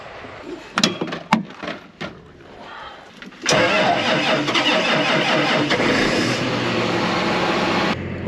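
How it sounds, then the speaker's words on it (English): A few clicks and a cranking attempt on new batteries, then a tractor engine catches abruptly and settles into a steady, loud running idle. "Well, the tractor started."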